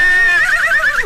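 Horse neigh from a 1965 Cinderella story record, a single loud, close whinny with a wavering, shaking pitch that lasts about a second and drops off at the end.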